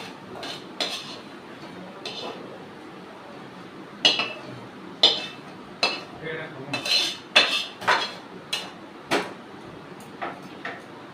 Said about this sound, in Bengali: এবার আমি থালার মধ্যে ঢেলে নিচ্ছি।